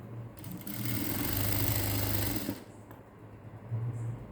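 A sewing machine stitches a 34-inch cross-cut blouse with piping in one steady burst of about two seconds, close and fairly loud, followed by quieter handling sounds.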